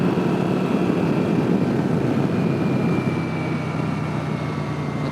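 A Yamaha Virago 535 motorcycle pulls away gently in top gear from about 30 mph, giving a steady, loud engine drone mixed with wind rush that eases slightly toward the end.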